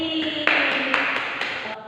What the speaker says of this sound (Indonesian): tepuk tangan untuk Mbak Desi